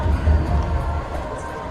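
Cricket crowd at a T10 match between Bengal Tigers and Chennai Rhinos cheering after a clean hit, a steady dense roar of fans throughout with no clear voices on top.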